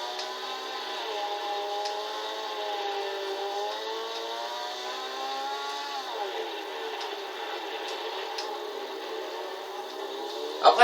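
A Lancia Delta S4 rally car engine in Gran Turismo 6 drones with a steady, buzzy harmonic tone, rising slightly and then dropping as the pitch shifts midway, continuous and fairly close with no talking.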